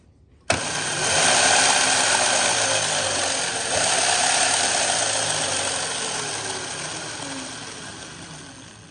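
A kids' electric dirt bike motor starts abruptly and runs with its rear wheel lifted off the ground, giving a steady, close whine with a faint rise and fall in pitch that slowly fades toward the end.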